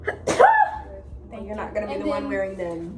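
A single sharp sneeze bursts out near the mic, and a person speaks right after it.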